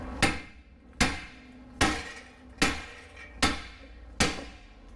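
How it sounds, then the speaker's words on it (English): Six sharp metallic hammer blows strike a Nissan Rogue front wheel bearing, evenly spaced with short ringing decay between hits, close and alone. "you're going to take your hammer and you're going to start hitting this bearing to come off"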